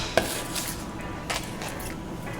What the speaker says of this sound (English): just cut the ends off.